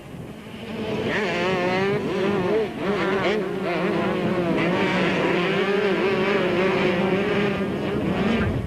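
Racing motorcycles, including a Suzuki, roar past during a 1998 Super Series race, with loud, sustained engine whine rising and falling in pitch as bikes pass nearby.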